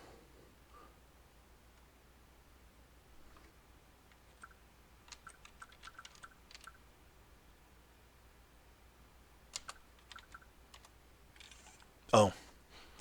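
Computer keyboard typing in a few quiet, scattered bursts of light key clicks, faint and close, ending in one sharper louder clack, with a low steady hum underneath.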